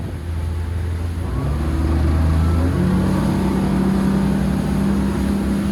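A Four Winns V258 boat's Volvo Penta V8 300 hp duo-prop engine drones loudly and climbs in pitch as it accelerates onto plane, a steady powerful roar with rushing water beneath.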